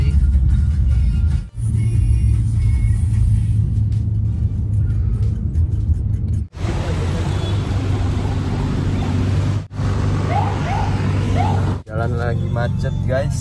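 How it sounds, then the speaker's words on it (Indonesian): Car interior during a traffic jam, with a steady low engine and road rumble that continues throughout, while people talk over it. "Lagi macet"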